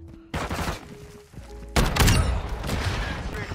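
Underbarrel shotgun firing in a multiplayer shooter video game, with heavy booming blasts that hit hard near the middle and are followed by dense, noisy game action.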